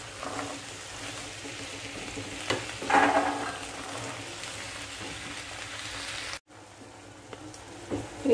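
A mushroom curry with potatoes and peas is sautéed in a pan, a continuous frying sizzle with stirring scrapes and a louder burst of spatula movement, then a brief cut before the sizzling resumes.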